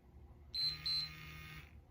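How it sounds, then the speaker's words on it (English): Two short, high electronic beeps in quick succession, followed by a softer sustained tone, from a running watch close by signalling a walk break. "It will go ahead and beep, indicating that it is a walk break"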